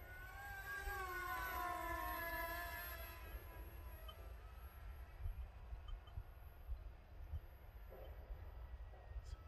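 Motors of an XK Mini Boeing 787 RC model plane whine outdoors in a garden, rising as a tonal buzz over the first few seconds then fading into steady wind and background rumble.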